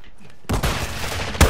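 Shotgun fire in a video game: loud, sudden blasts begin partway through, with a sustained burst of gunfire and another heavy shot near the end.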